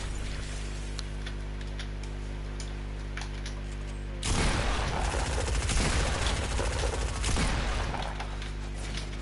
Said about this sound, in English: There's people that are shooting at us.